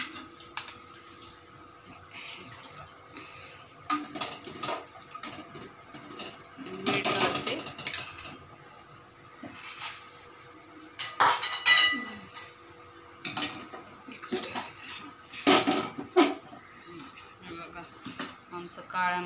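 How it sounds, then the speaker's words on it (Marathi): Water sloshing and a metal spoon scraping inside a kadhai as masala is rinsed off with a little water, giving intermittent clinks and scrapes of varying loudness, close by. "मसाला कढीला लागलेला धुवून घेते।"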